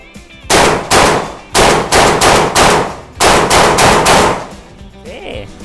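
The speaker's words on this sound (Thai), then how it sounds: "เอาเลยอันนี้โหลดไป10นัด ก็ลองดูนะครับ ยิงไปเรื่อยๆนะฮะ" Saricam shotgun fired repeatedly from a loaded batch of rounds, about eight loud, sharp blasts in an uneven quick sequence, each with a brief ringing decay, followed by a metallic clank at the end.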